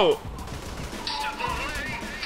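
Rapid gunfire in the video game Saints Row: The Third crackles over background game noise and a voice, sustained bursts through most of the short stretch.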